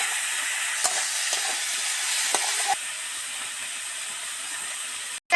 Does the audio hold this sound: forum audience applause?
no